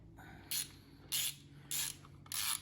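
Four short ratchet bursts, evenly spaced, as timing cover bolts are snugged down on a 1966 Ford Mustang engine, crisp and close against a quiet background.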